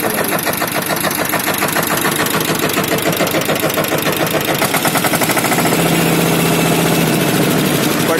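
A loud, steady diesel engine of a 2018 Steel Track 18 tractor idles close by with a rhythmic chugging throb that continues throughout, and no voices.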